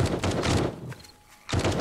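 Pipe bombs go off in a zombie survival game during a blood-moon night, a loud crackling barrage of blasts that fades to near quiet midway, then erupts again at the end.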